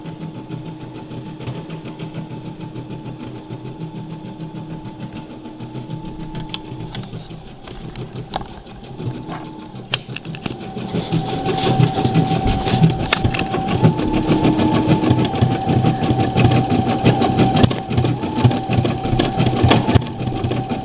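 A Brother SE400 embroidery machine stitches a towel with a rapid mechanical whir and ticking. It starts quietly, then grows busier and louder over the second half.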